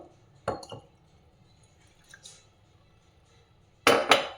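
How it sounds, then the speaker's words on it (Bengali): Water splashes and drips into a metal cooking pot while rice porridge is being made, with clinks of a pot or utensil, heard in a few short separate bursts close by and quiet in between. "আর একটু জল দেওয়া যাবে, যতটা জল দিতে পারো।"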